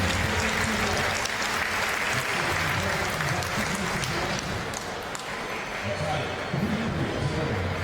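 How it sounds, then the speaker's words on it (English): A table tennis crowd at a team championship cheers and applauds in a continuous loud roar, with commentators speaking over the noise throughout. "Crowd getting revved up for a deuce game on the second court."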